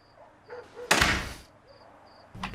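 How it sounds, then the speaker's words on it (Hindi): A door slams shut indoors, a single loud broadband bang that cuts through a quiet room with faint insect-like chirps in the background and no talking. "दरवाजा बंद करो।"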